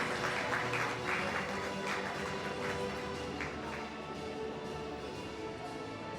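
An audience at a Cambridge exam certificate ceremony in 2025 applauds to welcome a teacher to the stage, producing a steady, soft wash of many hands clapping that stays fairly faint and even throughout.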